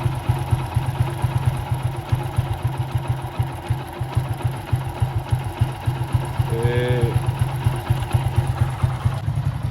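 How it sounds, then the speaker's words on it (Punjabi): A motorcycle with a slipping clutch idles in neutral at a steady throttle, its engine thumping in a fast, even rhythm close by, with a brief higher whine partway through. "ਨੋਰਮਲ ਰੇਸ ਉੱਥੇ ਹੀ ਰੱਖ ਲਓ ਜਿੱਥੇ ਉਹਨੂੰ ਸਹੀ ਜੇ ਲੱਗਦਾ ਹੈ ਨਾ ਮੋਟਰਸਾਈਕਲ ਬੰਦ ਨਾ ਹੋਵੇ"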